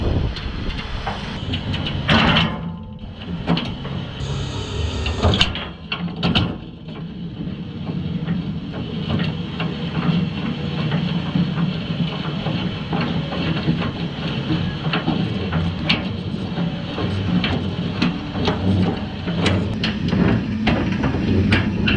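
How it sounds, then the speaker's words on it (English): A winch hauls a tractor onto a gooseneck trailer, a steady mechanical grinding drone with scattered clanks and ticks running throughout, fairly loud and close. "Let's winch the tractor in."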